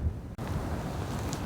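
Wind gusting across open moorland on the Pennine Way near the village of Gale, just before Hawes, producing steady low rumbling buffeting on the microphone after a brief dip near the start.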